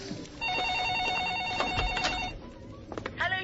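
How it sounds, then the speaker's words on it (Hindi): A telephone in a horror film rings with a steady electronic warble for about two seconds, fairly close and loud, then stops; a few faint rustles follow. "फोन बज रहा है। तू उठा ले।"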